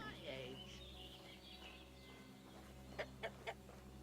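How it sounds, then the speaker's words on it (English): Chickens cluck faintly in Kingdom Come: Deliverance 2 under a low steady hum, ending in three short, sharper clucks close together. "you can hear the chicken noises"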